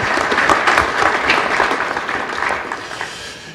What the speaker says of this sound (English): Let's give Clayton a round of applause